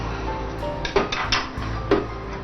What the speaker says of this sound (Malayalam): ഇനി ചുവട് കട്ടിയുള്ളൊരു പാത്രം അടുപ്പിലേക്ക് വെക്കും.